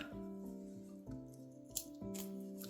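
Scissors snip crochet yarn in a few faint, quick cuts over a steady musical background, close but quiet, with no talking.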